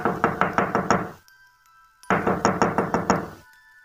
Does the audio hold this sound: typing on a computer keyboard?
no